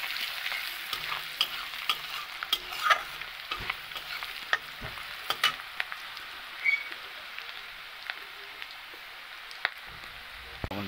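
Small pieces of boiled taro (mankochu) fry in a pan with a soft, even sizzle. Sharp spatula clicks and stirs come at irregular intervals, and no one speaks.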